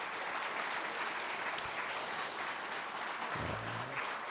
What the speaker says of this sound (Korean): 한번 좀 은혜 받았다고 하면 박수 한번 보내주시고